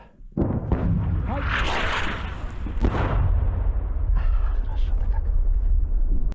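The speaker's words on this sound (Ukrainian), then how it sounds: "по нам обстріл, як прийняв" A heavy artillery blast booms after a brief quiet start near Bakhmut, followed by rumbling, crackling debris and further deep thuds, loud and close, with a voice briefly heard.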